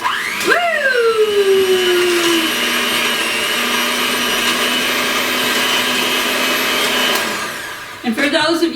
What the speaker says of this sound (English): I'm going to take my hand mixer today, and I'm going to mix the sugar and the butter until it's fluffy